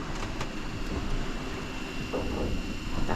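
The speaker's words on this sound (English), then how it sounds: "That's the sound of the fan in the background." A cooling fan runs below deck on a sailboat crossing the Pacific, giving a steady broadband hum with a faint constant tone that stays even and moderately quiet throughout, with no voices.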